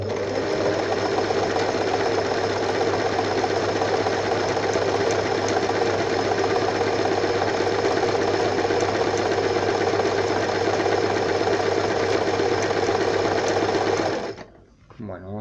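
An Elna Simple 113 sewing machine stitches fabric in a long, continuous, loud mechanical whir that runs steadily before stopping abruptly near the end.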